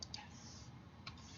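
A computer keyboard is tapped in CAM software while a file extension is entered: a few quiet, sparse key clicks over a steady background hum.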